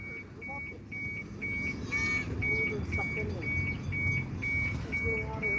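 Regular high-pitched reversing beeps from a train repeat steadily over a busy background of voices and traffic noise.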